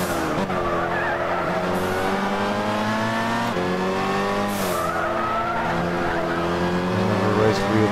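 Race cars in the driving game Gran Turismo 6, wheel-to-wheel online race: loud, continuous engine whine with shifting pitch throughout, tires skidding and squealing through corners, a steady roar with no pauses.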